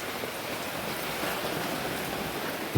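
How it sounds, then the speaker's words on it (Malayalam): Heavy rain pours steadily at night near a home kitchen, a dense, even hiss of drops without pause, with one soft knock at the very end. "ഇന്ന് മഴയാണ് മക്കളെ പെരും മഴ"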